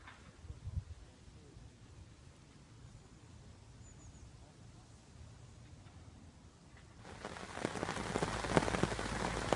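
Soft rain patters quietly at first at a carp fishing lake, then grows into a much louder, dense downpour of close drops striking a surface in the last few seconds.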